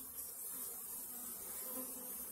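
Honeybees hum inside a barrel hive in a faint, continuous close buzzing drone with a soft hiss and no pauses.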